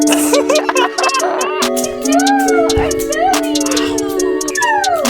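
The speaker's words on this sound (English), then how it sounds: "Come on, dog." A dog howls and whimpers in long wavering cries close by, with a person talking over it.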